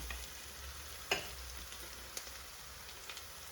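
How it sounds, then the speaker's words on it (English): Cumin and coriander powder frying in a pot, a quiet close sizzle and crackle with a few soft stirring knocks. "You really need to cook the spices well before you add anything else to it"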